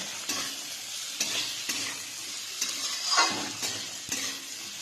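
Capsicum and other vegetables fry in a pan for a dinner of fried rice and chilli chicken, with a steady sizzle broken by several scraping stirs of a spatula, close and moderately loud, no talking.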